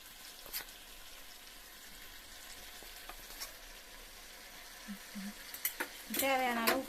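Chicken biryani masala frying in a pan: a quiet, continuous sizzle with occasional scrapes of a stirring spoon, and a brief voice-like sound near the end.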